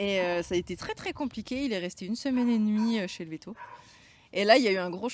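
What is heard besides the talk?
No everyday noises stand out.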